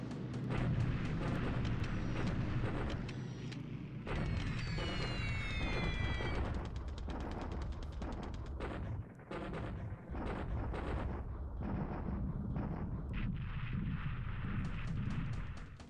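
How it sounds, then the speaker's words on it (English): Booming artillery and gunfire sound effects from the War in the Pacific strategy game as Hong Kong base is bombarded, dense and continuous, with repeated heavy blasts and rattling bursts over a rumbling bed. "we're just hitting Hong Kong again, trying to keep that base destroyed"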